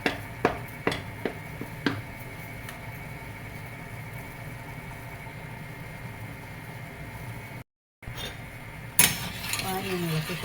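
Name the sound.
stirring the pan of banana halwa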